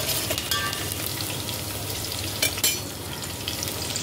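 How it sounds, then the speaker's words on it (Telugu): Onions and green chillies fry in a pan with a steady, close hiss of sizzling oil, broken by a couple of brief stirring scrapes near the middle, with no voices. "ఉల్లిపాయలు, పచ్చిమిర్చి కొంచెం ఫ్రై అయిన తర్వాత"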